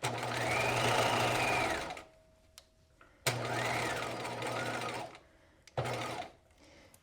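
A sewing machine stitches a knit neckband in the round on its free arm, two steady loud runs of whirring with a brief third burst and quiet pauses between.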